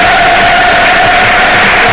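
A football crowd at the QPR stadium during a Queen's Park Rangers match against West Brom, a loud continuous roar of singing and chanting that fills the whole stretch with no break.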